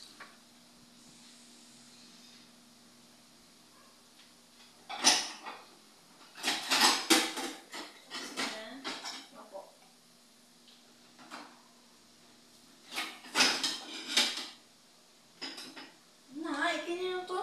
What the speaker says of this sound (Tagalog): ang ate ko naman ay magpupunas ng plato